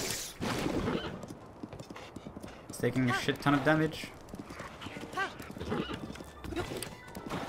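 In the Zelda: Breath of the Wild video game, a horse whinnies and its hooves clip-clop during a fight with a guardian, short neighs rising over game effects while a player talks excitedly over them.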